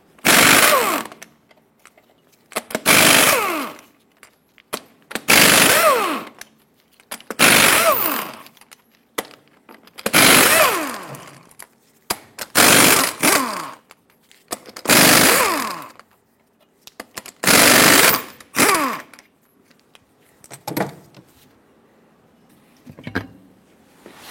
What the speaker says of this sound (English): Use a 24mm socket and remove all 8 of your lug nuts.